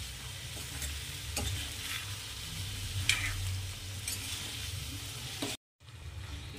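Mixed vegetables with capsicum, cabbage and peas are stirred in a hot pan, a steady close scraping and sizzle running continuously before a brief silent gap, then resuming.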